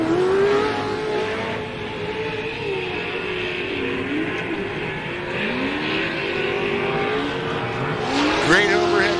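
Short course race trucks tear around a dirt track, engines droning with rising and falling revs and a sharp tire squeal near the end, with a commentator talking over the racing.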